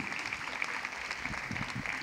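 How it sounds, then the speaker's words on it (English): Moderate applause from the audience at a women's college degree certificate ceremony, a dense patter of clapping with some low background murmur and scattered louder claps. "A loud round of applause."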